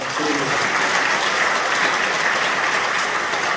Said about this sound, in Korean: 우리 모두에게 차축한번하는 의미에서 박수 보내드립니다.